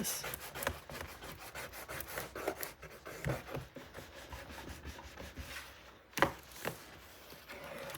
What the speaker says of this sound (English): I'm going to burnish as best I can.